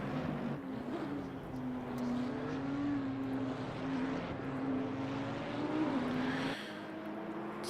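Race cars doing donuts at Suzuka in Assetto Corsa Competizione, a sustained droning engine tone that wavers in pitch for several seconds, heard steadily at moderate level without speech.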